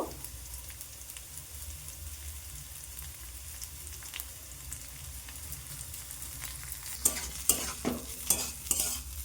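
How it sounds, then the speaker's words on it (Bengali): Green chilli, grated ginger and nigella seeds fry in oil in a pan, a soft continuous sizzle that turns into sharper scraping stirs near the end, with no voices. "এবার একটু ভাজা ভাজা করে নেব, খুব বেশিক্ষণ ভাজার দরকার নেই"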